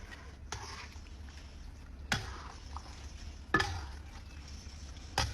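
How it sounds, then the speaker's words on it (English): Pasta being stirred through a sauce with parsley and feta in a pan with the heat off, soft scraping under low background noise, marked by three or four sharp clinks of the spoon against the pan. "it's time to stir this sauce through"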